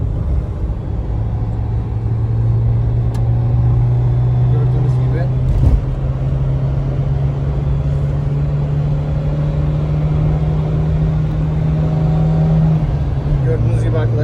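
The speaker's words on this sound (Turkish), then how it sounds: "Bu şekilde yine hızlandığımızda bakın şimdi aracın hızlanışını, gaz tepkimesini falan göreceksiniz şu an." A Renault 19 Europa 1.6 RTE car accelerates, its engine drone rising steadily in pitch over several seconds and then dropping slightly with a gear change, heard from inside with constant road noise beneath.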